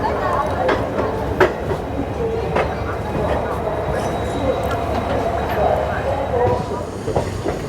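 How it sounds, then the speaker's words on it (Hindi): Salasar Express passenger train rolling on rails through desert country, a steady low rumble of wheels and carriage noise with faint clicks running throughout, heard from inside the moving train with people talking nearby. "ये मेरी ही ट्रेन घूम रही है।"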